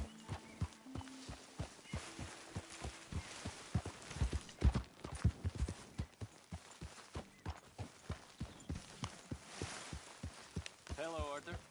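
Horse hooves clip-clop in a steady walking rhythm through Red Dead Redemption 2, close and distinct, with a brief whinny-like tone near the end and no speech over it.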